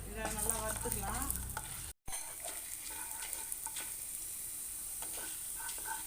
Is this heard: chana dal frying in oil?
yes